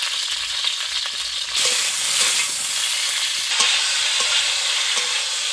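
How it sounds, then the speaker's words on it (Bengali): Cauliflower lightly salted fries in a pan with a close, steady sizzle and crackle, stirred so the hiss jumps louder partway through, with scraping touches and no talking. "আমি ফুলকপিটাকে খুব ভালো করে ভেজে নিয়েছি।"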